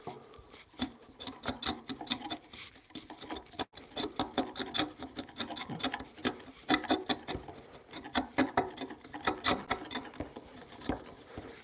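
Close, steady rasping and scraping from hand tools paring down a wooden tenon and housing on a timber-framed bunk bed joint, in dense irregular bursts of strokes with brief pauses, no talking.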